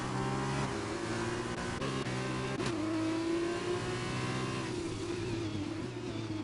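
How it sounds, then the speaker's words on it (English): Racing cars in a video game drive in a close train around a track, a steady loud engine drone with shifting revving tones and gear changes throughout, no talking. "The train of cars are lining up behind Charlie."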